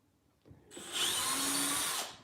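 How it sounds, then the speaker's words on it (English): A power drill bores a hole into a new wooden guitar neck for side-dot inlays, a close, bright whine that spins up, holds steady for about a second, then cuts off. "We'll just drill these holes"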